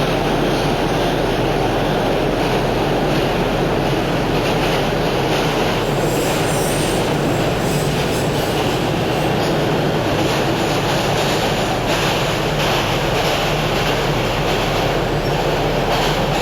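An NYC Subway R160 A train rolls along in the OpenBVE simulator with a steady, loud rumble, wheel squeal and faint clickety-clack throughout, with no talking.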